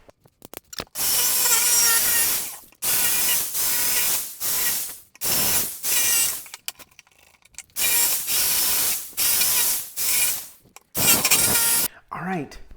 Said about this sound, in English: I want to make sure I leave enough room for my jigsaw to get in here and cut these cuts